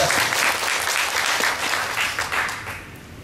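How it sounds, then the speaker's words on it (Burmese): A church congregation claps together in praise during a service, loud sustained applause with a steady pulse that thins slightly toward the end. "လက်ခုပ်တီးလို့ဘုရားရှင်ကိုချီးမွမ်းကြ"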